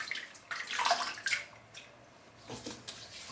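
Brief splashes of running water during a rinse while wet shaving, a few soft trickling bursts close by with quiet gaps between.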